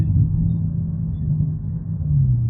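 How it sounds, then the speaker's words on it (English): Alpine A110 sports car with a turbocharged engine, a deep close idle rumble that swells slightly with a throttle blip near the end, steady and without talk. "Little blip of the throttle there, you get some really good induction noise. You can hear the air being sucked into the turbo as well."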